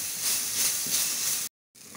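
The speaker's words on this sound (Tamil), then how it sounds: "இந்த எண்ணெயில வெங்காயம் தக்காளி வதங்கிடுச்சு" Onion and tomato sautéing in hot oil for a minced meat fry, a steady loud sizzling hiss that cuts out briefly and then resumes.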